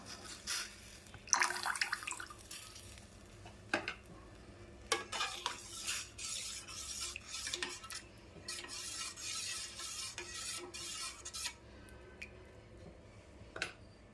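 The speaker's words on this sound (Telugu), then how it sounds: "ఇప్పుడు మరుగుతున్న దాంట్లో రాగి వాటర్ పోసేద్దాము." Ragi water poured into a boiling pot for ragi payasam, then stirred, with metal spoon scraping and clinking against the pan over a continuous watery bubbling, close by, no talking.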